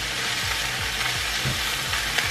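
Food sizzling steadily in a hot frying pan at home, a dense continuous crackle with occasional low clatters of stirring, close and alone with no talk.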